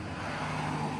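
Steady street traffic drones outside an office window in a continuous, even wash of vehicle noise with no distinct passes or voices.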